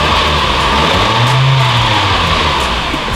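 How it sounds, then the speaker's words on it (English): A 2008 Mitsubishi Lancer GTS engine revs up from idle, rising to a loud sustained roar and then settling back, heard close and alone with steady broadband hum underneath. "So now let me rev it up."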